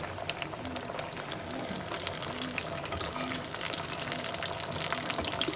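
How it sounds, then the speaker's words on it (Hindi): Food bubbles and crackles steadily as it is double fried in hot oil over a full flame until crisp and golden, a close, continuous sizzle with faint clinks. "अब दोबारा फ्राई कर रहे हैं"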